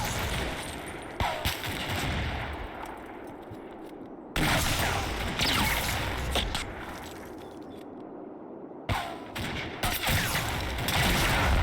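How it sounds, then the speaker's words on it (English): Machine gun fire in the Combat Mission wargame, set in Italy, sounds as long crackling bursts of distant automatic fire with sharper cracks and booms breaking through. The bursts surge and drop away several times. "it's not long before MG fire comes in on my scouts"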